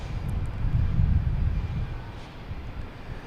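A JetBlue airliner arriving at Boston Logan Airport, its engines a low, broad rumble that swells and then slowly eases off in the distance.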